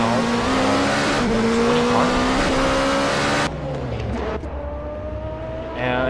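Race cars pull away in a racing video game series, loud engine whines climbing in pitch with some tire noise, then dropping to a quieter, thinner drone as they move off.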